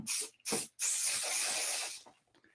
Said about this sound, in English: So I'm spraying down with the grain of the hair.